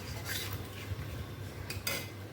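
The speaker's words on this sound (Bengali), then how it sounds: "এখন সবগুলোকে সুন্দর করে মিশিয়ে নিচ্ছি" A spoon stirs spices in a cooking pan for a shrimp poppy-seed dish, producing quiet scraping and occasional light metallic clinks at close range.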